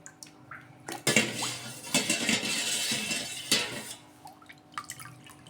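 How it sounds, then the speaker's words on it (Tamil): Fermented dosa batter poured from a container onto potted plant soil, a close wet glugging pour in several bursts with light clinks of a vessel between them. "தோசை மாவை இந்த மாதிரி ஊற்றணும்"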